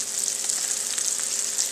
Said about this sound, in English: 2 chicken thighs frying in the bacon grease